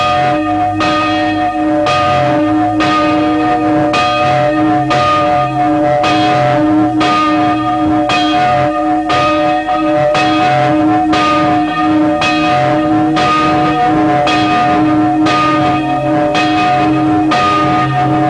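Church bell tolling in steady repeated strikes, loud and close, each ring blooming and overlapping the sustained hum of the previous one, at a cathedral charterhouse, with no voices.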